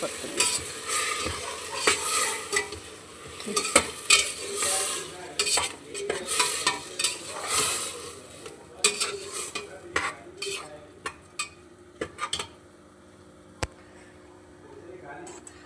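Rice and lentils scraped and stirred around a metal pot with a spoon, busy clinking and scraping strokes, with a faint sizzle underneath.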